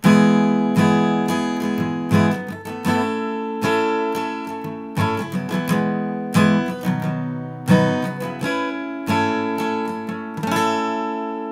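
An acoustic guitar strummed in a steady rhythmic pattern, chords ringing out clearly and close, with regular accented strokes and no voice.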